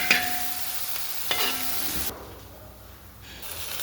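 Food sautéing in a pan ahead of adding masala: a short scrape and stir, a second stir, then a steady frying sizzle that briefly quiets before picking up again, close and with no talk.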